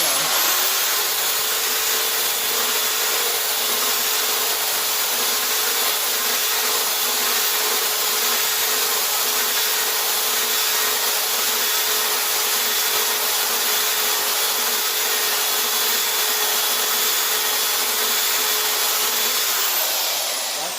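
Chainsaw cutting steadily into a stoutly footed piece of scrap wood, a loud continuous high-pitched buzzing whine held for about twenty seconds without a break.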